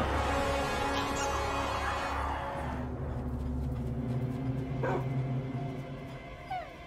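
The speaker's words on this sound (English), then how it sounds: "Yo, that dog's from Minecraft." Dog in the video game Minecraft Legends giving short yips and whimpers over a dense, loud background of game music and ambience.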